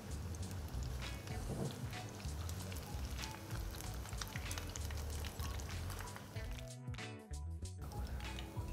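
Dahi bread rolls deep-fry in hot oil, a steady dense sizzle and crackle running throughout, close and fairly loud, with brief clatters near the end.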